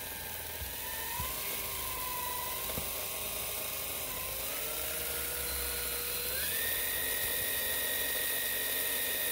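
A Mini-Z RC car fitted with a Speedbolt motor and a Samix 20-tooth pinion spins on speed dyno rollers, giving a steady high-pitched electric whine that climbs in pitch partway through and holds there, close and continuous with no talk.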